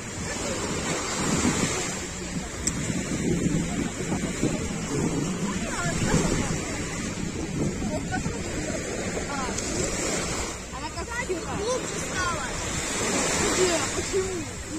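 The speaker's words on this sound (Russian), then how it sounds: "такой теплый ветер, прям теплый, влажный, пахнет морем" Steady wind by the sea, with surf roaring and gusts buffeting the microphone, continuous and fairly loud, with faint voices beneath.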